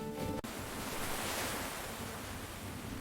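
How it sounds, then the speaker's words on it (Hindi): Water rushing from a canal into a farm field in a Hindi cartoon, a steady, loud wash of broadband noise like surf that runs throughout after a brief tonal sound cut off at the start. "देखो, पानी खेत तक पहुंच रहा है।"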